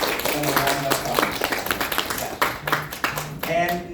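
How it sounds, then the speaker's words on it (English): Audience applause at a panel event on TikTok content creation, a sustained round of clapping with voices and other sounds mixed in, fairly loud and uneven throughout. "please give them a round of applause"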